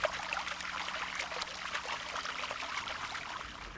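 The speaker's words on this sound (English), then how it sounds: "Using the waterfall pump and hose, check the flow by running water over the constructed feature." Water from a waterfall pump running over constructed pond stones in a water garden, a steady nearby trickle and splash pouring continuously.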